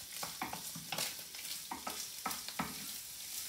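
Onions frying in a pan with a steady sizzle, broken by a series of close scraping stirs in a loose rhythm; nobody speaks.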